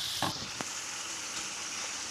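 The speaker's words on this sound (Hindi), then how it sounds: "ये बीफ कीमा है उसको मैं थोड़ा सा भूनूंगी जीरे के साथ" Beef mince sizzling in a pan with cumin, onion, tomato and garlic gives a steady, close frying hiss throughout, with a couple of brief stirring scrapes near the start.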